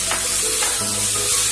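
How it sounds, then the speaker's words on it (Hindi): Green peas frying in cooked masala with oil separating at the edges, a continuous close sizzle with faint scraping and stirring and no voices. "लगभग आधा मिनट के लिए फ्राई करते हैं।"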